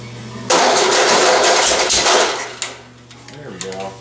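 Volkswagen 1600 dual port engine cold-starting: a loud, close crank that catches and runs at a rough, steady roar, then drops toward idle with brief revving blips, while people talk near the end.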